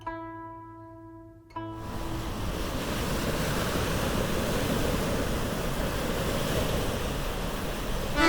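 Mediterranean Sea waves off the Tunisian coast wash in as a steady, loud, broadband roar of surf, with wind noise blending in after a brief quieter opening.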